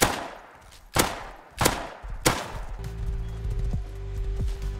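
Gunfire in the video game Rust: four sharp, loud single shots spaced about a second apart, followed by a steady low electronic hum with faint thuds.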